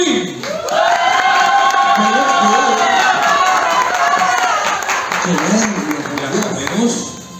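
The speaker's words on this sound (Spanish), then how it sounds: "Fuerte los aplausos para Venus Queen" An audience at a drag queen casting show cheers, shouts and applauds for a contestant named Venus Queen. The crowd noise is loud and continuous throughout, with many voices mixed together.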